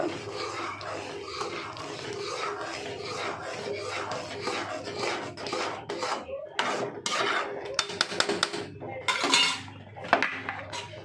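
Roasted semolina for sheera stirred in hot water in a pan, rapid rhythmic scraping of a spoon against the metal pan, close and busy, growing sharper and more clattery toward the end, with no talking.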